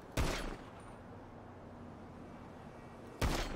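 Two sharp gunshot bursts in a video game police shootout, one at the start and one about three seconds later, loud and near, separated by a low ambient hum.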